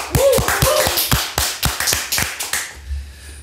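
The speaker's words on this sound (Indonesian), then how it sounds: "Tepuk tangan dong" Crisp hand claps in a quick, slightly uneven rhythm, about a dozen sharp strikes close to the listener, with a short voiced sound near the start, then fading into quiet room tone.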